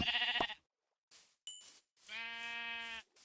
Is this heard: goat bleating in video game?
yes